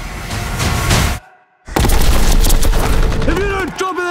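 Artillery booms and rapid gunfire from a trailer for a war film about the Battle of Long Tan, loud dense explosions and volleys broken by a brief silence, with voices shouting over the combat.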